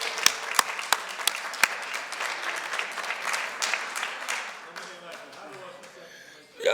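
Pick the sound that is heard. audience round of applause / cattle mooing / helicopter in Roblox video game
audience round of applause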